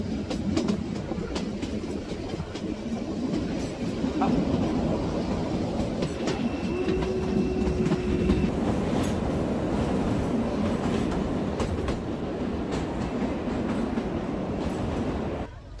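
A Kalka-Shimla railway train runs on its tracks with a continuous close rumble and rhythmic wheel clatter, plus a few brief thin squeals from the wheels partway through.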